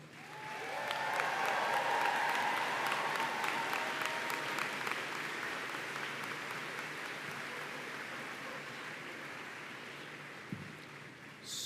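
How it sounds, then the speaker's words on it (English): Sustained audience applause for graduates at a university commencement, a broad crowd of clapping hands with some cheering and whistles early on, slowly fading over several seconds. "Can we give our graduates one more round of applause?"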